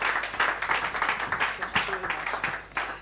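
Conference audience applauding after a talk at a summit, a steady round of mid-level clapping with uneven bursts, mixed with a voice speaking over it.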